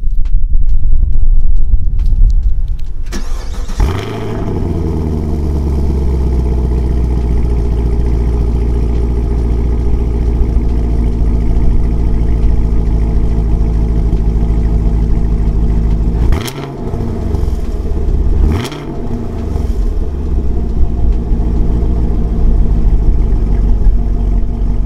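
A 2021 Chevrolet Camaro 2SS with the 1LE Track Performance Package cranks and fires up, then settles into a loud, steady, rumbling idle. Two quick throttle blips sound near the end.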